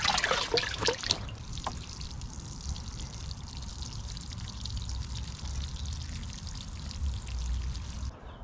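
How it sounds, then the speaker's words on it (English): Water poured onto freshly planted pea seedlings in a garden bed, a steady soft trickle and splash running for several seconds after a brief louder start, fairly quiet and close. "next thing is to water it in"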